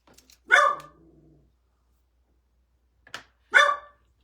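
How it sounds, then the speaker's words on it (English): A dog barks twice, a few seconds apart, fairly close in an otherwise quiet room, with a faint low whine trailing the first bark. "sorry about my dog"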